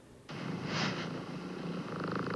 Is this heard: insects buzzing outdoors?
no